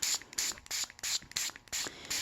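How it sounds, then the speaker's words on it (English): A spray bottle is pumped about six times in quick succession, each pump giving a short, hissing burst of mist, close and distinct against quiet pauses. "notice how I'm holding the spray bottle rather, kind of at this distance where it's not too close, just right, so that we can create that mist"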